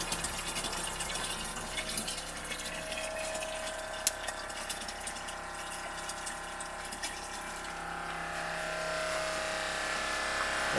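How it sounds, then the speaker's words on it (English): A small electric water pump pushes water through a hose to a caravan, a steady faint whirring hum with a light watery hiss, continuous and even, rising slightly near the end. "I'll open this valve back up and then the pump will just start again"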